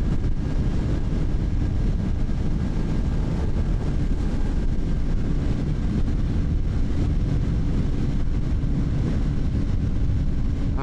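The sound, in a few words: strong wind while riding a motorcycle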